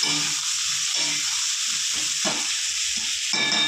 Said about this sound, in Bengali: হালকা করে বেগুনগুলো ভেজে দেব।